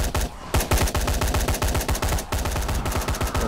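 Sustained automatic gunfire in Dying Light, a fast, loud, evenly spaced stream of shots close up that pauses briefly twice, with no voices.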